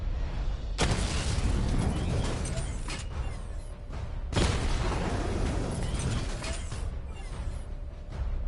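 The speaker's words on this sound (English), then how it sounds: "Destroy targets to charge up weapon energy and activate missile barrage." Missile barrage in the Batman Arkham Knight video game, with two heavy explosive blasts a few seconds apart. Each blast gives way to a long, crackling rumble of debris and smaller bursts.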